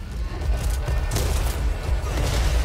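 Gunfire in the zombie shooter video game Back 4 Blood, rapid dense shots and booms packed into a continuous loud barrage with a heavy low rumble.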